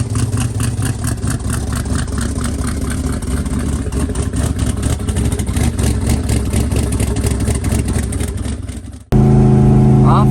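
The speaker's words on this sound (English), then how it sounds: "the gray car's out here freaking ripping" A gray car with a newly machined billet torque converter drives hard on a freezing day, its engine roaring and revving steadily close by, loud and continuous, then ending abruptly in a brief different steady hum.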